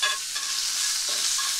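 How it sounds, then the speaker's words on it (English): Chicken and vegetables sauté in a hot pan, giving off a steady, bright sizzle with stirring scrapes, close and continuous, with no talking. "and it's sauteing, and you got that good sizzle going"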